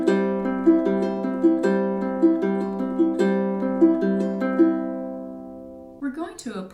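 Ukulele played in a Travis picking pattern at 150 beats per minute, a steady alternating fingerstyle rhythm of plucked notes, close and clear, ringing out before a brief rustle at the end.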